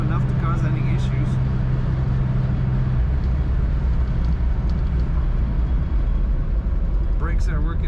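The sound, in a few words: 1963 Chevrolet Corvair Monza convertible driving on highway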